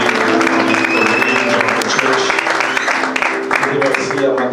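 A church congregation applauds and cheers at the close of a sermon, a steady wash of clapping and voices sustained throughout, loud and close.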